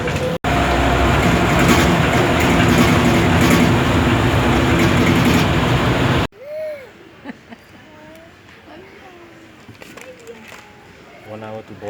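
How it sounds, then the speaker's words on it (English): The Aero train airport shuttle to the satellite terminal runs with a loud, steady rumble and rattle for about six seconds, then cuts to a quieter space where voices and a chime-like announcement tone are heard. "Now we are ready to take the Aero train to the satellite terminal."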